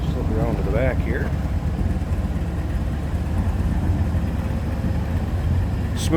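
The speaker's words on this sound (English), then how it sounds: "Smooth running, no crazy exhaust or loud obnoxious sound as far as the exhaust on this one." The 1960 Cadillac Eldorado Seville runs with a smooth, even low exhaust rumble, steady and close throughout, as someone talks over it.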